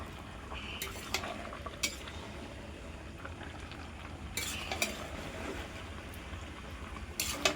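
Curry sautés in a pan with a low simmering sizzle, broken by occasional bursts of spatula scraping and clinks against the metal, moderately quiet overall.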